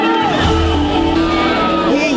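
Celebrity castaways and the host of Survivor Philippines cheering and shrieking together as they watch the pilot episode, a steady, loud wash of overlapping excited voices and whoops.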